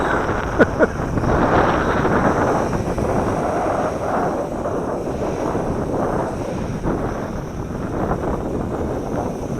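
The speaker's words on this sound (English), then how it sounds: "As the jet stream breaks up, it gets windy out here." Steady, loud wind buffeting the microphone for the whole stretch, a dense roaring rush with a couple of brief knocks near the start.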